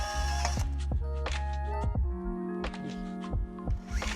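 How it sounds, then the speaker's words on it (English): On a Subaru STI wheel hub, a drill-mounted stud cleaning tool spins and repeatedly knocks against the brake caliper, giving a low motor hum with a series of sharp clacking hits and rattles, close and fairly loud. "That's the sound of me clipping the caliper with my tool."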